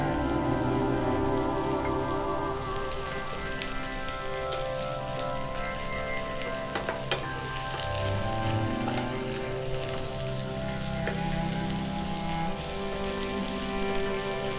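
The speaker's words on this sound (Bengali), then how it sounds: "রসুনের সঙ্গে পেঁয়াজটাও একটু ভেজে নেব" Chopped onion and garlic frying in ghee for an ol (elephant foot yam) bharta, a steady dense sizzle and crackle running throughout, close and even with a few brief clicks and stirring knocks.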